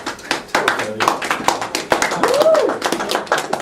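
A high school English class claps after a Shakespeare authorship debate, with sharp, uneven hand claps close by, some scattered and some in quick bursts, under ongoing student chatter.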